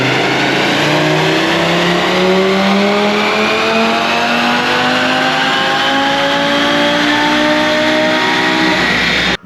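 A tuned Audi RS3 or TT RS runs on E20 ethanol on a dyno, its engine loud and close, rising steadily in pitch through a long full-throttle pull before cutting off abruptly.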